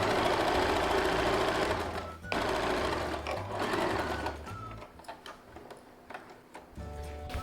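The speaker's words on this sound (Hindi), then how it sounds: "फिर कपड़े को खींचते हुए मशीन चलाना है" A sewing machine stitches elastic onto an Afghani salwar, running in a loud continuous rattling burst, pausing briefly, then resuming before breaking into shorter, quieter stop-start runs with clicks.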